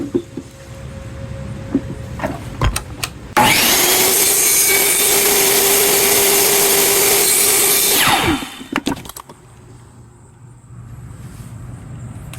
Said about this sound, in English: Let's try to use the miter saw.